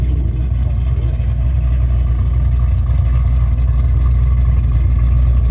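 A Late Model race car engine, now fitted with mufflers instead of straight pipes and running on E85, rumbles loud and steady at a constant idle with deep low-end throb and no talk.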